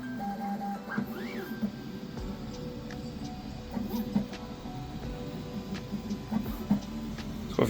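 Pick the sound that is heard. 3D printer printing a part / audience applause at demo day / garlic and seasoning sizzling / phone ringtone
3D printer printing a part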